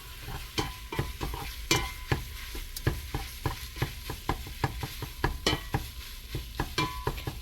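A spoon stirs sausage gravy in a hot pan, giving steady scraping strokes in an even rhythm of roughly two per second over a constant sizzle, close and clear with no talking.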